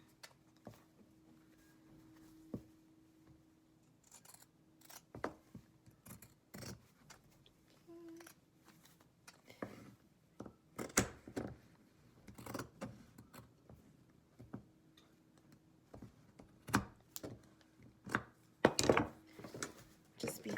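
Scissors trim the edges of a sewn fabric mask cover with a series of faint, irregular snips that grow busier toward the end, close by in a quiet room.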